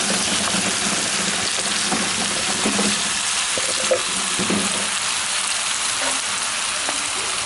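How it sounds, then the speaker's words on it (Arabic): Sliced zucchini fries in a pan, a steady dense sizzle and crackle with occasional soft stirring knocks, loud and close throughout, with no talking. "انا ببتدي انزل بالكوسه اللي انا مقطعاها"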